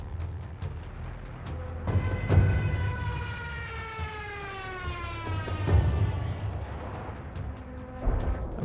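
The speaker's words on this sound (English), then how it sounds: "a propeller-driven siren tube that made the approaching aircraft with its banshee howl as menacing as some fantastical beast" A propeller-driven siren tube on an approaching World War II aircraft howls in long rising and falling wails, loud and menacing, over a steady low engine drone.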